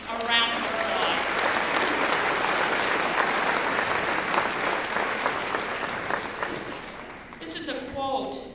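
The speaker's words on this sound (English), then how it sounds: "Let's give her a round of applause." An audience applauds steadily at a spring afternoon university commencement ceremony at the University of Wisconsin-Parkside, a dense wash of many hands clapping at once for a full stretch, with brief voices at the start and as the clapping fades.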